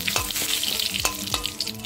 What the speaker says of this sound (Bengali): তো এই শুকনো লঙ্কা আর তেজপাতা একটু ভাজা ভাজা হোক